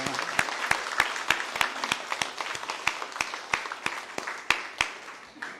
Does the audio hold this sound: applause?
yes